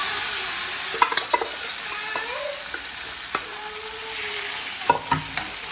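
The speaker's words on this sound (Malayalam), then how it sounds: "അതിലിട്ട് ഇങ്ങനെ ഇളക്കി കൊടുക്കുക." Beef fry crackles and sizzles steadily in a pan while a utensil stirs it, scraping and clinking against the metal in a few distinct knocks over the hiss.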